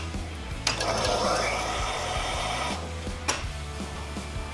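Fuel pump priming on a turbocharged time-attack car's upgraded fuel system, a steady mechanical whirring buzz lasting a couple of seconds with a low hum underneath, framed by sharp clicks at the start and near the end.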